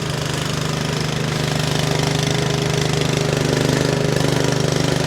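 A radio controlled mower's engine runs steadily throughout, a continuous loud mechanical drone with a knocking, choppy texture, close by and growing slightly louder toward the end, with no voices.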